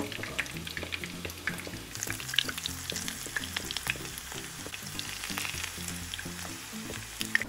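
Beef taquitos fry in shallow oil in a pan, a constant close sizzle broken by sharp pops and crackles, with soft clatter as one is turned over.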